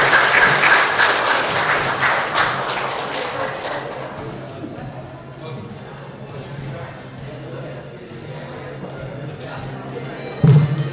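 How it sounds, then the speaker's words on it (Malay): Indoor audience applause at a Malaysian municipal staff ceremony honoring 20 years of service, loud crowded clapping at first that thins to scattered claps and murmuring, with a single sharp thump near the end. "kita berikan tepukan sekali kepada yang moderator"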